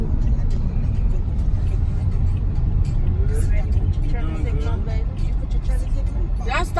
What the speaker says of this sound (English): that's why that car went around